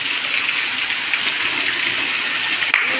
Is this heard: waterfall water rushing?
yes